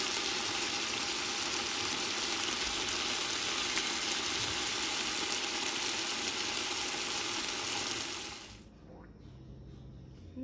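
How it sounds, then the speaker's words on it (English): Onions and peppers fry in a pot for a split pea soup, giving a loud, continuous broadband sizzle that cuts off abruptly near the end, leaving a faint low hum. "I added the rest of my onions and peppers to this so it can nicely fry"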